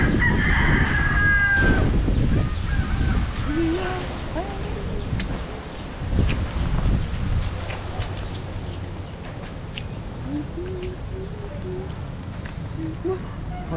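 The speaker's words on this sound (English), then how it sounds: "variety of chickens that they got here." Chickens and roosters in the Philippines cluck and crow repeatedly, several rooster calls rising out of a busy outdoor background at moderate distance, with people talking throughout.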